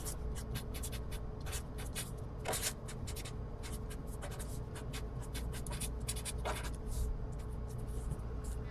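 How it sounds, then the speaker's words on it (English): Pen or pencil scratches steadily across paper while study questions are written out in Cornell-style math notes, a close, continuous scribbling with short strokes and pauses throughout. "this is where you're going to write your study questions"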